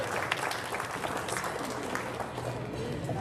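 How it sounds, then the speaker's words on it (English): An audience at an evening event applauds vendors, a moderately faint, dense patter of many hands clapping, with some crowd murmur mixed in. "Please give them a round of applause once more."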